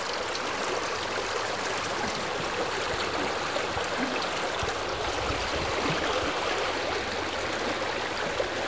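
River water streams and trickles steadily in a Sundarbans mangrove river where fishermen haul in nets, a continuous broadband wash with no talk.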